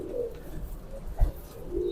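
A hand-held pigeon giving soft, low coos, close and fairly quiet, with a brief louder handling thump partway through and no talk.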